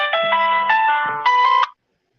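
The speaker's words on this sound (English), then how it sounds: "Can you just put the phone on silent so that I'll just respond to it?" A phone rings with a loud, close melodic ringtone of bright repeated notes for under two seconds, then cuts off abruptly into silence.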